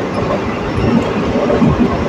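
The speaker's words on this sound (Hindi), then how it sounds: "गाड़ी ने स्पीड पकड़ लिया" A steady low rumble of the Jaffar Express passenger train picking up speed between Lahore and Okara, dense rolling rail noise with no voices.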